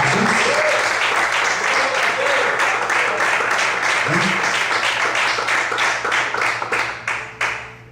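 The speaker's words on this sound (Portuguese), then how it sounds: "Você pode desocupar a sua mão e aplaudir bem forte ao Senhor Jesus." A church congregation applauds loudly, a thick wash of many hands clapping that holds steady and then thins into scattered final claps, with a voice speaking over it.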